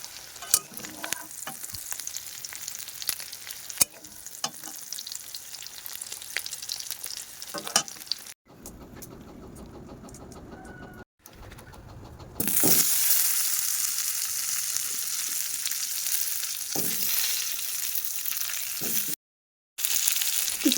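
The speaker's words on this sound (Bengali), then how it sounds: "এবার আমি এটা তুলে নিয়ে এই তেলেতেই আলুটা ভেজে নেব।" Potatoes fry in oil with a steady crackling sizzle and scraping stirs, close and fairly loud, with one short quieter stretch before the hiss surges brighter and continues.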